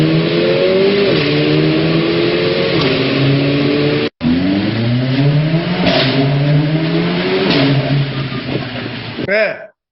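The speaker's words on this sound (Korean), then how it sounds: "그래서 저는 이 자동차 사는 이유가 있습니다. 저는 이런 소리를 굉장히 좋아합니다." A car engine revs hard through several rising sweeps, each climbing in pitch before dropping at a gear change, loud and close, with a brief cut midway and a sharp drop at the end.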